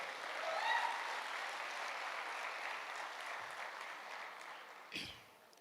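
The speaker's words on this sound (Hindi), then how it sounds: "जोरदार तालियां नागेश्वर जी के लिए एक बार फिर से" Loud applause from a seminar audience for a speaker, a dense crowd clapping that starts strong and gradually fades, with a brief thump near the end.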